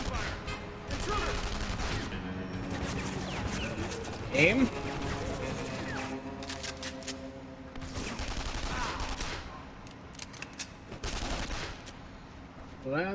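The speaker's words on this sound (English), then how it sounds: "Gunfire!" Gunfire rings out in a spy-themed video game, with bursts of shots and fusillade-like volleys scattered through busy game sound while a voice speaks briefly.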